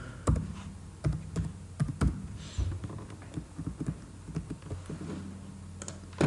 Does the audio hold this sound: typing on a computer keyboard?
yes